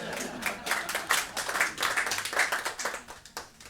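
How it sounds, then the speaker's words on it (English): Small audience at an intimate tiny-concert session claps in a steady, moderately close round of applause, a bright patter of many hands with no talking over it. "I think you guys deserve a round of applause for being hardcore music fans."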